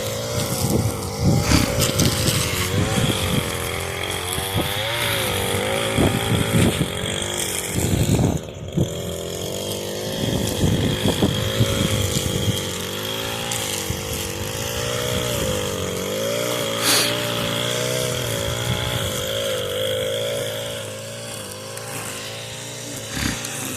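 A small gas engine of an Echo SRM 225 string trimmer drones loudly and steadily, revving up and down in pitch with a buzzy, rasping tone throughout.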